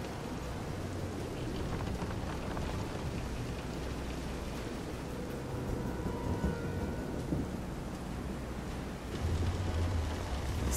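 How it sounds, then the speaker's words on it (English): Thunderstorm at sea in the video game Visions of Mana, heavy rain pouring steadily with low rolling thunder beneath it and a deeper rumble swelling near the end, no voices. "This is some storm."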